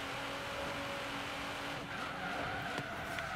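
Entry-level supercar engine in the video game Forza Horizon 3, a steady loud drone with a rising tone near the end and a brief screech, continuous throughout with no talking.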